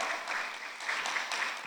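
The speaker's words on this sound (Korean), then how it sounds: "우리 하나님께 영광의 감사 박수 한번 드리겠습니다" A church congregation at a holy festival prayer gathering at Osanri Prayer Mountain claps in sustained, dense applause, steady and fairly even throughout with no voices standing out.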